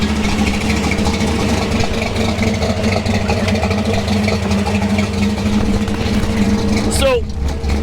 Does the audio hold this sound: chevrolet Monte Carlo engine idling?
yes